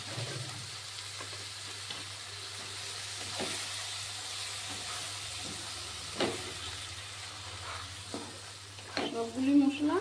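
Tomato puree, salt and Kashmiri chilli powder sizzling and frying in oil for a tangra fish curry, a steady soft hiss with occasional stirring scrapes and louder spits toward the end.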